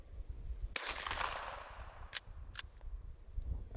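Several sharp pistol shots fired at a target, one strong report early followed by a few quicker, lighter cracks, moderately distant with a faint background hiss.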